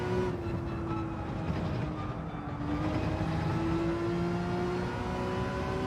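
A Porsche engine in Gran Turismo 7 holds a sustained, humming rev with gently wavering pitch, steady and moderately loud across a few seconds with no voices over it.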